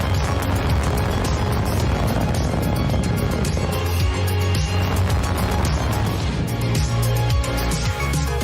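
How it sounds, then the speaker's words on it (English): A SpaceX Falcon 9 rocket roars just after liftoff, a loud continuous rumble with crackling bursts that holds steady throughout. "Falcon 9 has cleared the tower."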